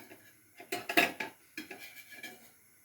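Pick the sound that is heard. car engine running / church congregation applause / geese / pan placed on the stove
pan placed on the stove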